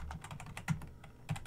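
Keys clatter on a computer keyboard as a command is entered, a quick run of close, crisp taps with a couple of heavier strokes, heard alone.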